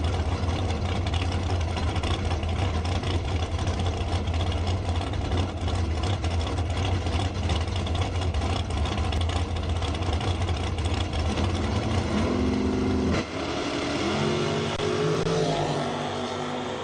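Drag racing cars, among them a 1955 Chevrolet sedan, idle loudly at an ET finals strip, a steady low engine rumble filling the air before rising revving tones swell near the end.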